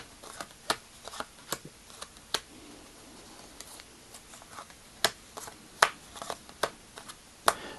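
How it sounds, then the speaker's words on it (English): Playing cards handled in an LR shuffle during a card magic demonstration, giving sharp, close snaps and soft riffling clicks at irregular intervals over quiet room tone. "now you take each half and perform an LR shuffle on each half"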